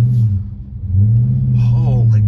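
A 2017 Dodge Charger 392 Super Bee idles with a deep, steady low rumble, close and loud, dipping briefly then settling back, with faint voice-like sounds over it late on.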